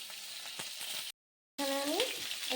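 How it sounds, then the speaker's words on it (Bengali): Pieces of pointed gourd (potol) fry in hot oil with a soft, close sizzle, broken by a brief silent gap and then a scraping stir as the pieces are turned. "এবার আমি একে একে পটলগুলো ভাজতে দিয়ে দেবো"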